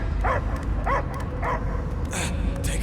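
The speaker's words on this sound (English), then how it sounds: "I hear only barking" A dog barks in the Guardians of the Galaxy video game, five or six evenly spaced, yelping barks over a low rumbling game backdrop, fairly close and clear.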